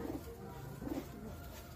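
Faint, low coos from a Teddy Giribaz pigeon come in two brief throaty bursts about a second apart over a quiet background hiss.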